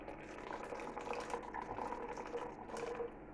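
Boiling water being poured into a wild garlic bulb soup makes a steady close bubbling, trickling pour that runs continuously at low level before cutting off near the end, with no talking.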